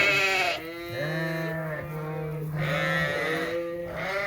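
Several sheep bleat loudly and close by in a barn, long wavering calls overlapping one another with brief gaps between them, no talking.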